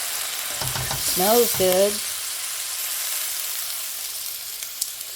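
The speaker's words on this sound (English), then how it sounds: "don't burn the garlic that you put in. Just fry it up really nice." Garlic frying in a pan, with bacon among the ingredients for a side dish of beet greens, makes a steady broadband sizzle that runs through the whole clip. A short spoken remark comes near the start.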